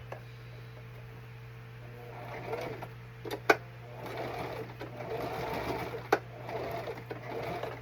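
A sewing machine runs in bursts, stitching a finished seam on black striped pants, its motor whirring and needle ticking close by, with a steady hum underneath and sharp clicks between runs.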